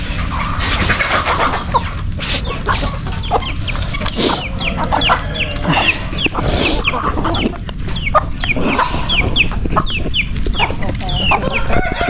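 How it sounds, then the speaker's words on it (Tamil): Chickens cluck steadily in a busy, close-up farmyard chorus, with occasional rooster-like calls rising over continuous background clatter. "கோழி வயசு வந்து காலங்காத்தால் எழுப்பி விட்டுறாங்க"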